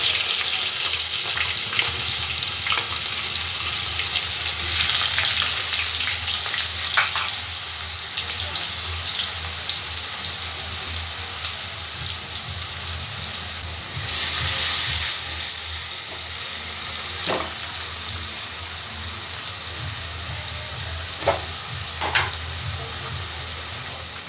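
Two large chopped onions sizzle steadily in a pan while cooking chicken patties, a continuous close hiss with scattered pops and crackles and no talking.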